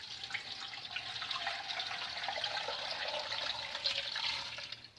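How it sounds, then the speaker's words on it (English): Water pours into a slow cooker holding beets, a steady moderate stream that runs for several seconds with a faint rising gurgle, without speech. "I'm going to add some water."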